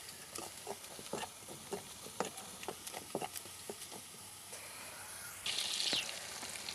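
Fried dried chillies tipped into a pan of cooking greens, giving a steady close sizzle with scattered crackles and small clatters, swelling louder near the end.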